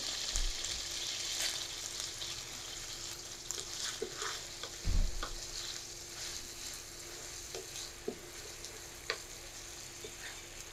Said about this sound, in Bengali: এই তেলে আমি রান্না করে নেব যে পেঁয়াজ নিয়েছি এক বাটি সেটা দিয়ে দিচ্ছি